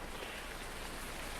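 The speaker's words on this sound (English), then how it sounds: "It's getting rainy." Steady rain falling in Farming Simulator 19, a dense, even hiss of drops hitting surfaces that holds at a constant level throughout, with no voices.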